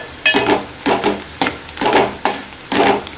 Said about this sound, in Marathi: कांदा थोडा अजून फ्राय व्हायला पाहिजे.